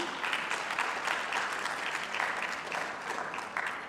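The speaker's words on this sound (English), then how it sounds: "So I want to give a loud applause for our panel." An audience at a water collaboration conference between Egypt and the Netherlands gives a panel sustained, dense applause, loud and steady for the whole stretch with no talk over it.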